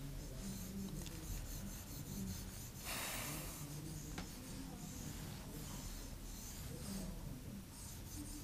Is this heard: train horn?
no